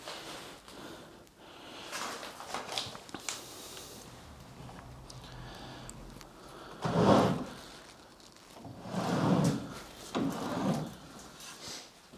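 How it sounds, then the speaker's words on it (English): Wooden drawers of an antique double desk in an abandoned house slide open and shut, several scraping, rumbling pushes and pulls spread out with quiet gaps between them. "there's drawers this side and there's drawers that side"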